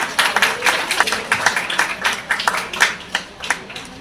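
Applause for Sandhya madam at a Women's Day celebration: a steady, fairly close round of many hands clapping with uneven sharp bursts, continuing for a few seconds with no talk over it.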